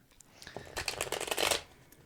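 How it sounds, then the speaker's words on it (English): Tarot cards are shuffled by hand in a quiet room, a soft riffling flutter that swells and then fades over about a second, with faint taps before it. "That was the sound of tarot cards being shuffled."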